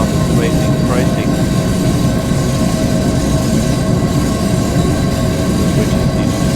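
A train in Train Simulator Classic runs downhill on the Hamburg route with its brakes applied, giving a steady loud rolling rumble with faint wheel squeals, under speech.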